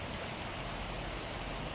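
Rain pours steadily beside the Hacı Ahmet stream in Balçova, a dense even hiss of falling water close by with no voices and no breaks.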